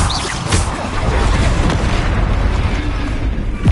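A Bombarda spell blast in Hogwarts Legacy sends out a loud, low rumbling explosion that fades over a few seconds amid mechanical game effects, with no talk over it.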